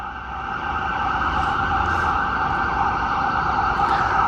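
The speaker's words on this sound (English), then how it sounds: "we are hearing, I don't know if it's an ambulance or something like that" A steady, wailing ambulance siren in Jerusalem holds on continuously, fairly loud over a dense background rumble, with no talking.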